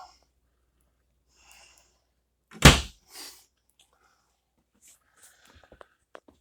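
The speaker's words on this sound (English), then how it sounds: "Push the drawer back to close it." A drawer in a 2019 Entegra Anthem 44F motorhome is pushed shut with one sharp thunk and a softer knock after it, followed by faint small clicks in a quiet interior.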